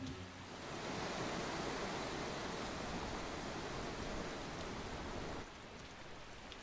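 Steady rainfall in the video game Tales of Berseria hisses evenly for several seconds, then drops to a softer, quieter patter near the end.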